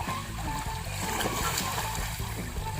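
A strong stream flows and splashes around bathers in a river, a loud continuous rush of water filling the whole clip.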